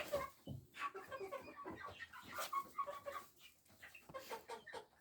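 Chickens cluck repeatedly at close range, with a large Maran rooster among them, in short bursts over a busy farmyard background.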